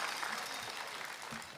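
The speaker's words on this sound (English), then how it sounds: "That deserves applause for sure." An audience at the Luminate Finals 2024 accelerator event claps in a faint, steady patter for a brief moment.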